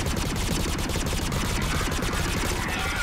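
Rapid, continuous gunfire aimed at a harvester in Mass Effect 3's final battle rattles loud and dense without pause.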